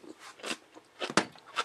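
Close crunching bites and chews of stored homemade food, several crisp bursts in an uneven rhythm.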